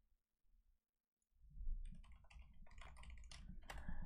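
Typing on a computer keyboard, close-up: a few faint taps after near silence, then a busy run of quick clacking keystrokes at moderate loudness, irregular in rhythm.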